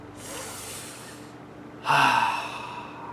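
A deep breath taken during a guided anger-management meditation: a soft, airy inhale followed by a louder, fuller exhale, close and alone with no talk.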